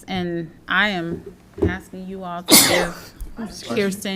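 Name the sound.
sneeze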